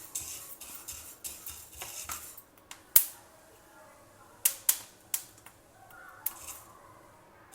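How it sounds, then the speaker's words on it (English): Horsegram dry roasting in a pan over a low flame, with scattered sharp crackles and pops, a few loud snaps standing out over a faint background. "dry roast it only on a low flame till the color changes, it starts crackling and popping"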